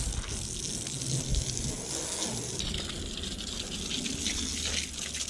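Water from a hose sprays steadily over the hood and wheels of a Campagna T-Rex three-wheeler during washing, a continuous close hiss and gush with no talking.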